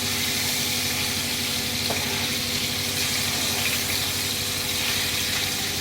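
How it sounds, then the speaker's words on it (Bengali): Belly pieces of chital fish fry in a small amount of oil in a pan after being turned over, giving a continuous, even sizzling hiss up close, with no talking. "এখন আমি মাছগুলো উল্টিয়ে দিচ্ছি মাছ কিন্তু আমি খুব কড়া করে ভাজবো না"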